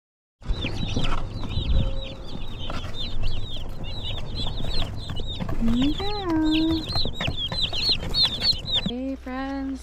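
A brood of baby chicks being settled into a homestead brooder peeps constantly, with dense, high, overlapping chirps close by. A person talks softly underneath.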